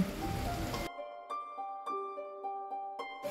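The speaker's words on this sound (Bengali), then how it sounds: "আলুর টুকরোগুলো দিয়ে আমি মাঝারি আঁচে আলুগুলোকে একটু তেলের উপর ভাজি করে নিব।" Potato cubes hit hot oil with a brief, close sizzle that stops abruptly, followed by soft, ringing tonal notes.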